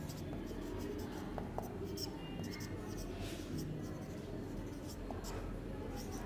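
Pen or chalk scratching out a Class 7 algebra solution line by line, a soft continuous scraping under a steady low background hum, with no clear pauses.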